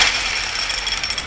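Kango electric hammer drill hammering with a fresh attachment fitted, grease still warming: a loud, rapid, continuous mechanical pounding with a buzzing metallic rattle, close up and alone.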